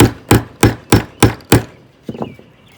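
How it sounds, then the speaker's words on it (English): A hammer whacks a socket set over a primer pocket conditioner, five sharp evenly spaced metallic thwacks about a third of a second apart, close and loud, followed by a couple of softer knocks and handling clatter. "Give that a few whacks with the hammer."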